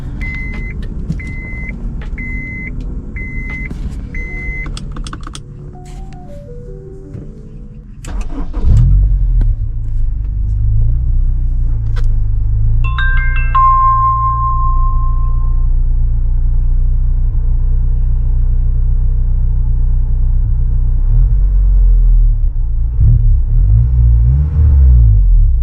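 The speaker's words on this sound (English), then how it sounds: "This is a interior shot of the car starting up with it fully warmed up." Inside a 2001 Honda S2000 (AP1), fully warmed up, warning chimes ping over a low hum, then the engine cranks and catches with a surge, settling into a steady, deep idle rumble.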